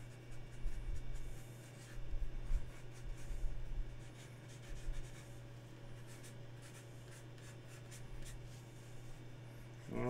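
A pencil sketches a gesture drawing of an ant on paper, with quiet scratchy strokes coming in short bursts over a low steady hum.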